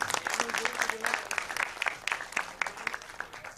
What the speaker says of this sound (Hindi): जोरदार तालियों से बता दीजिए।